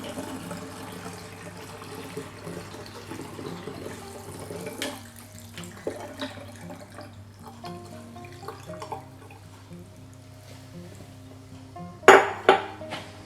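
A kitchen tap runs while a jug used for brewing water kefir is rinsed out, water splashing and gurgling against the vessel with light clinks, ending in a sudden louder gush near the end.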